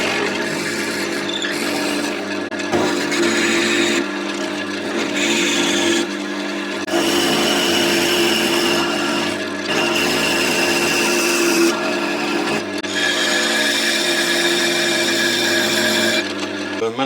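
A power tool drills and hollows out a chestnut wood piece with a 60 mm cutter bit, a loud steady whirring grind broken by short pauses, with a faint hum between bursts.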